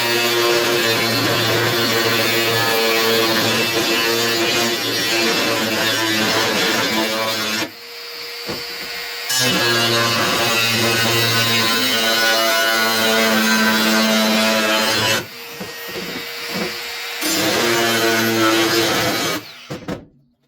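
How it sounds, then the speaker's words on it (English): An angle grinder cuts fold lines into a metal tray mount, whining loudly in long sustained passes with two brief pauses, then trails off near the end. "get the angle grinder and cut these lines down here, my fold lines"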